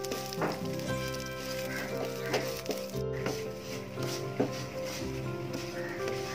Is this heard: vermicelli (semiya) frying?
yes